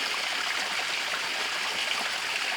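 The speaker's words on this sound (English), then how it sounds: "You see the water running?" A small creek runs steadily nearby, a dense continuous rushing and trickling wash of water with no pauses, fairly loud and alone.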